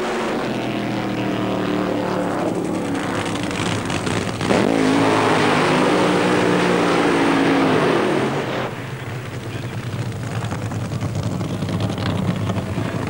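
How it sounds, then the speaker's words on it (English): Two drag race cars do synchronized side-by-side burnouts at a 1993 Cannonball event at Santa Pod, engines droning, then surging into a loud, rising scream of revving for several seconds before cutting back to a lower rumble. "how about that for synchronized burnouts side by side with the number 2 and the number 9 quickest in the Cannonball"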